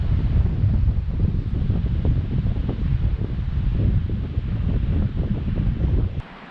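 Strong wind blasts across an outdoor rockhounding dig site at Quartz Creek in Little Naches, a loud continuous low roar of gusting buffeting the microphone, easing off abruptly near the end.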